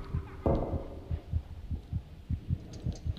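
A child's heartbeat in Among the Sleep thumps in a steady low double-beat rhythm, close and muffled, repeating about every half second, with a brief rustling knock near the start.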